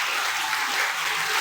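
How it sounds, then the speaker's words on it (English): A short burst of audience applause: many hands clapping in a dense, even patter that stays steady for its brief length. "Giving you an applause."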